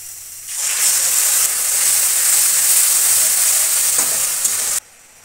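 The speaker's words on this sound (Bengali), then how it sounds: "এখন ওই যে আগে থেকে করে রাখা শুকনা মরিচের পেস্ট, সয়া সস আর টমেটো সস দিয়ে করা পেস্টটা উপর দিয়ে দিয়ে দেবো।" Paste of dried chili, soy sauce and tomato sauce poured into a hot pan for Korean noodles, bursting into a loud, sudden steamy sizzle that holds steady for several seconds, then cuts off abruptly.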